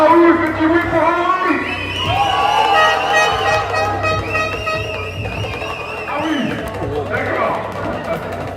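Spectators at an under-13 boys' youth basketball final making noise for a player, a loud wash of shouting, cheering and whistling with children's voices and a horn-like toot, sustained and busy under talk throughout.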